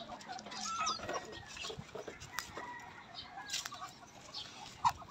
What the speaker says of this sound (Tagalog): Pinakain niya muna yung manok.